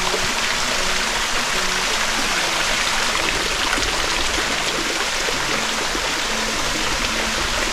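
Water falls from height into Khandoya Lake, a limestone-edged lake at Kalar Kahar, making a continuous, close splashing and trickling like a small waterfall, steady and unbroken with no voices.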